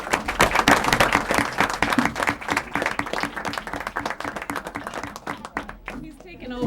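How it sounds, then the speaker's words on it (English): Applause from the audience at a school committee meeting, honoring an elementary school: dense, steady clapping that fills the room, loud and continuous, then thins toward the end as a few voices come through. "How about one more big round of applause for the Studley Elementary School?"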